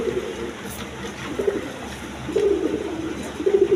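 Pigeons coo in short, repeated low calls at moderate distance against a steady background hum, with no talk over them.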